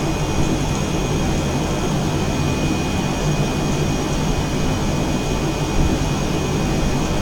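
A jet aircraft taxis on the ground during a bombing-operations flight, its engine giving a steady, loud broadband roar with a sustained high whine running through the whole stretch, with no talk.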